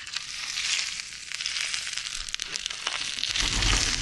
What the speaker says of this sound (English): Hear that sizzle? Come on now.